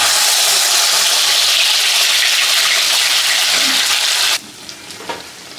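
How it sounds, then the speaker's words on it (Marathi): Ground masala fries loudly in oil in a kadhai for dhaba-style shev bhaji, with stirring. An intense, close hiss dominates for over four seconds, then cuts to a faint sizzle with a few light scrapes. "तर हा मसाला आता आपल्याला व्यवस्थित तेल सुटेपर्यंत परतवून घ्यायचा आहे"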